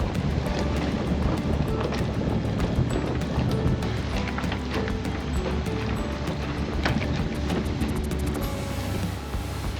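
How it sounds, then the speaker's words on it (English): Strong wind roars across a sailboat at sea between Brunswick, Georgia and Charleston, South Carolina, with loud continuous buffeting and a flapping sail. "The wind and flapping of the sail only makes things more stressful."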